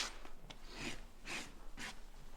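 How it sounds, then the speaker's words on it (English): A farrier's rasp files a horse hoof in about four rough, rhythmic strokes, close and fairly quiet, with no talking. "going to take your old rasp"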